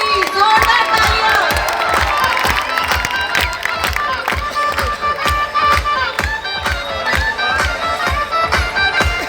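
An audience at a company achievement celebration claps hard and cheers, a dense, loud burst of many hands with shouts and crowd noise running throughout.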